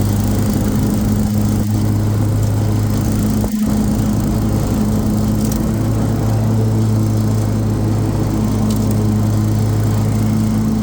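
A SCAG Turf Tiger commercial-grade zero-turn riding mower with a 61-inch deck runs steadily outdoors while cutting grass, its engine a loud, continuous low drone with a couple of brief knocks and no talk.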